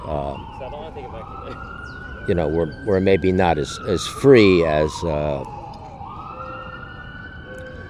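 A wailing siren sweeps up and down at a distance, circling a park, while a person speaks in the foreground over it.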